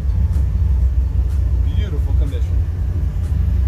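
A custom-built 1955 Chevy Bel Air two-door hardtop with a stick shift idling or cruising on a test drive, its deep steady engine rumble heard from inside the cabin beneath someone speaking.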